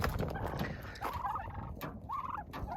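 Turkeys gobbling in short warbling bursts, a few calls a second apart, fairly close over light background noise.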